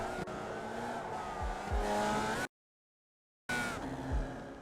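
Race cars drift through a corner in the iRacing sim racing game, with droning engines and squealing tires up close. The sound briefly cuts out to total silence, then the engines and skidding return.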